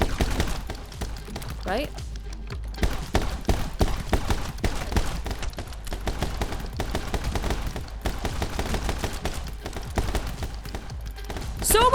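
Rapid gunfire from the action video game My Friend Pedro comes in dense, repeated bursts and thuds while a person talks over it.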